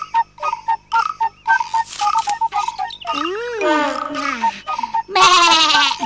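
A cartoon sheep bleats in a series of short, wavering calls, joined by light jingling and other animated voice-like bleats, close and fairly loud.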